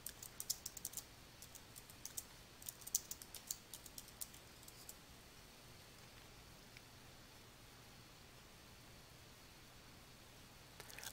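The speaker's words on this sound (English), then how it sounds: "Type the name that you want to give to this new preset into the File Name field." A computer keyboard is typed on to enter a file name, a quick burst of light, close clicks over the first five seconds, then faint steady room hiss with a couple of stray taps near the end.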